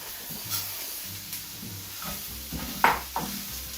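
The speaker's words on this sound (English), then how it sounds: "I'm going to add our bomba rice, and I'm going to saute it in the olive oil and vegetables for about a minute" Bomba rice sautéing in olive oil with vegetables in a pan, a soft steady sizzle and hiss with occasional scraping stirs and clinks of a utensil against the pan.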